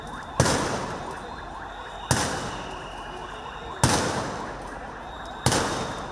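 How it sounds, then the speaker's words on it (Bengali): Police fire tear gas during a street clash in Dhaka: four loud, sharp bangs arrive at regular intervals, each one echoing and fading away before the next. "পুলিশ কাঁদানে গ্যাস নিক্ষেপ করে।"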